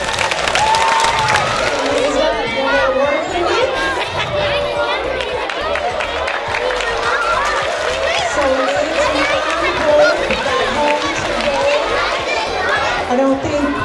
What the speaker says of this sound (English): let's give Nate a round of applause for his family.